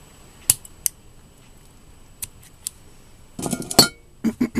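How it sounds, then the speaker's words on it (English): Scissors snip a tail of knitting yarn on a round of a knit doily dishcloth, giving a few brief, crisp close-up snips spread across the clip, with a tight cluster of clicks near the end and no talk. "I'm going to cut it a little bit shorter."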